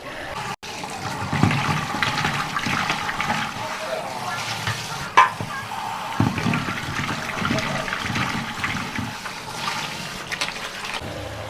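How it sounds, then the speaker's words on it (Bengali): Running water and splashing as local magur catfish is rinsed by hand in a bowl, a steady wet swishing with brief clatters, close up and without talk. "এবার আমি আবার জল দিয়ে ধুয়ে নেব।"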